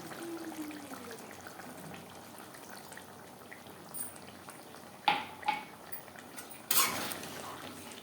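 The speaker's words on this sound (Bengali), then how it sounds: "এবার দিয়ে দেব চায়ের লিকার" Tea liquor is poured into simmering aloo chicken jhol in a pan, giving a couple of short splashing pours over a faint, steady bubbling simmer.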